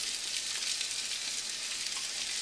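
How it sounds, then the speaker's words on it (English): Onions and peppers sauté in oil left from Italian sausage, giving a steady, even sizzle and crackle that holds close and constant with no voices. "I'm gonna saute the onions and peppers in here"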